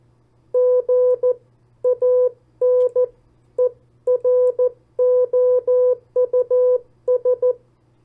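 A pure Morse code tone spells out the word generous in short and long beeps, crisp and steady, with small gaps between letters over a faint low hum.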